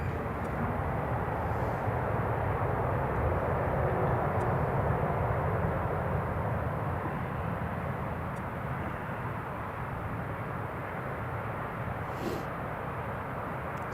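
A KLM Embraer 195 E2 jet rolls out after landing at Newcastle International Airport, producing a continuous broadband engine rumble at moderate distance that stays even throughout, with no voices.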